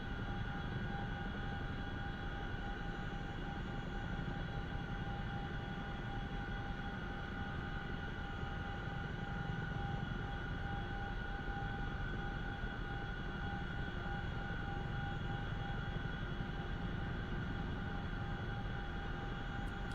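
A CH-47F Chinook helicopter in the DCS flight simulator produces a steady, unbroken turbine drone with a high whine layered on top, holding at an even level throughout.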